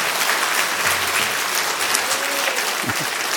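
An audience at a church lecture claps in steady, dense applause, a continuous crowd of hands at moderate distance lasting throughout, with no talk over it.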